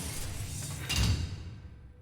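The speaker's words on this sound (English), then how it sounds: "the door behind Selena slams closed" A door slams shut with a single heavy thud over a steady background hum, the impact trailing off into a fading rumble.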